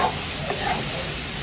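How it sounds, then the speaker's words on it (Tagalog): Pork cooks in a pan with a continuous bubbling sizzle and scattered soft crackles, close by and steady, with no talk over it. "Ito po yung pulutok niya, idol, lumulugutok."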